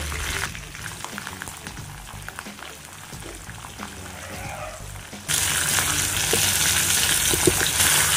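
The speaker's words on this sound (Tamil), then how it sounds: "இப்போ கடுகு பொரிஞ்ச உடனே நம்ம வெங்காயம் ஆட் பண்ணிக்கலாம்." Onions hit hot oil with popped mustard seeds and curry leaves, a close sizzle that jumps into a louder, bright, continuous frying hiss midway and holds to the end.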